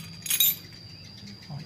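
A brief bright jingle of keys being handled while looking for a motorbike key, faint and close, with a low background hum.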